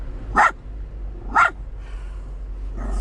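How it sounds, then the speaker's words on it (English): Two sharp dog barks about a second apart, close and loud, followed by quiet. "She's barking at shadows now."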